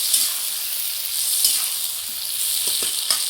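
Tomatoes for a tomato pickle cook in a pan with a bright, steady sizzle. A few light stirring taps sound near the end, with no talking.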